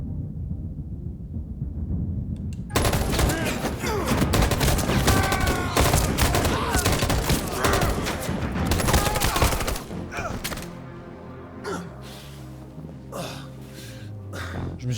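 Dense gunfire in the video game Detroit: Become Human erupts after a quiet start, a loud sustained volley of rapid shots and booms lasting several seconds, then trailing off into quieter game sounds and lingering echoes.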